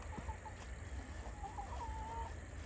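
Backyard chickens clucking softly at a distance near a flattened garden fence, a few faint short clucks and calls over steady low background noise.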